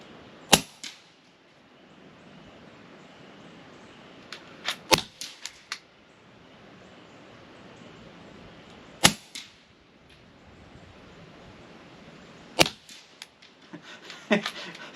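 Shots from an FX Impact M3 air rifle or a suppressed Ruger 10/22, sharp isolated cracks spaced several seconds apart with a few quick follow-up clicks, close and loud against a quiet outdoor background.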